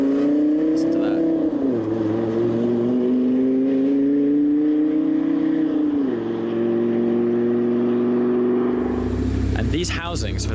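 A Koenigsegg supercar engine holds a loud, close, steady drone, its pitch dipping and rising twice before a sharper rev near the end.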